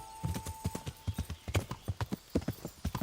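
Horse hooves clip-clopping in the medieval game Kingdom Come: Deliverance, a steady walking rhythm of distinct thuds at close range with no talk over them.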